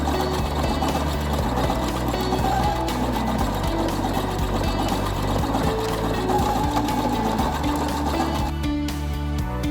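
A sewing machine runs steadily and loudly, stitching the foot rib seams of a baby romper's overall pants, with a continuous dense whir through the whole stretch and no talk.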